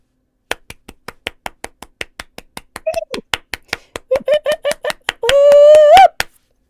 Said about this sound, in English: let's clap it in